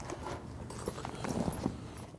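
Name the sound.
pickup horses hooves clip-clopping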